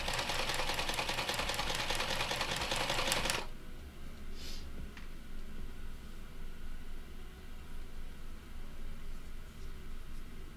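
A sewing machine stitches a garment seam with a rapid, steady whirring rattle for about three seconds, then stops abruptly, leaving a quiet room with faint small clicks.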